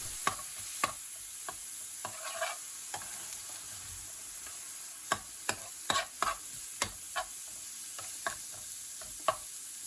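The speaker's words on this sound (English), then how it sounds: "Cook stirring for 2 to 3 minutes to ensure the rice is piping hot" Pre-cooked rice stir-fried in a hot pan for lemon pilau, with a constant background sizzle and regular sharp clicks of a spoon or spatula striking the pan, close and without talk.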